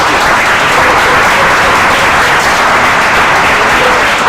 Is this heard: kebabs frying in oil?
no